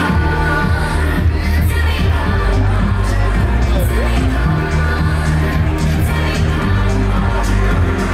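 Loud, continuous crowd cheering and shouting at a live fight event, a dense roar of many voices filling the space with occasional bangs and whoops.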